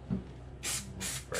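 Spray adhesive hissing onto carpet lining inside a VW T5 van: two short, close bursts of spray followed by the start of a third.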